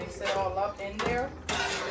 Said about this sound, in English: Mix it all up in there.